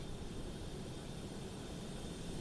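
Steady broadband roar of a Cessna Citation jet engine in Microsoft Flight Simulator, a constant even whoosh with no change throughout, heard alone.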